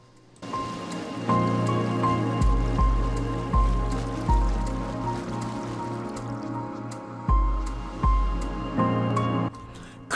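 A character in the game Tunic wades through shallow water along a path, making steady splashing footsteps with a repeating rhythm. Soft dripping and trickling water sounds play behind the steps, and nobody talks.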